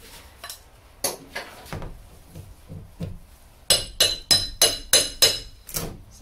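Interior panels are pried and knocked out of a van, giving a series of sharp clunks and metallic clinks, sparse at first and then a quicker run of louder knocks, close and with no talking.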